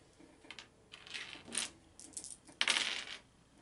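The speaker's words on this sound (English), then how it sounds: "somebody needs to roll four dice against Mr." Four dice tumble and rattle across a table during a Shadows of Brimstone board game, giving a few quick bursts of clicky clatter that are quiet and close.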